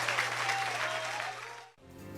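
Church congregation applauding during a sermon, a dense steady wash of many hands clapping with a low hum underneath, cutting off abruptly near the end into quieter room sound.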